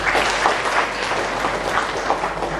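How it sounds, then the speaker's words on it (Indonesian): An audience at an Islamic education launch event in Jakarta breaks into steady, sustained applause, dense and even throughout, with a faint voice beneath it. "Tepuk tangan untuk Prof."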